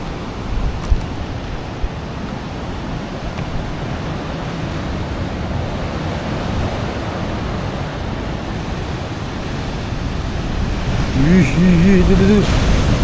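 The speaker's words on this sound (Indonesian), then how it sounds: "Itu ombaknya bro, ya Allah." Ocean waves on the south coast of Java roar as a loud continuous wash of surf mixed with gusty wind buffeting the microphone, swelling louder toward the end, where a voice briefly speaks over the noise.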